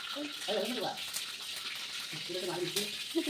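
Mustard seeds crackle and sizzle in hot oil in a home kitchen, a soft close frying hiss with scattered small pops, faint beneath a person speaking intermittently.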